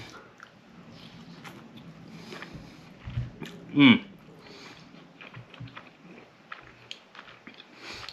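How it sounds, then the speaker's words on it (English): A bite into a buffalo chicken smoked shotgun shell gives one brief, close, squishy crunch, followed by soft chewing under quiet background noise. "I'm gonna have to go in for a second bite"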